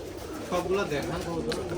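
Giribaz high-flying pigeons at a farm of four to five hundred birds, cooing and fluttering close by in a steady low murmur, with someone talking over them.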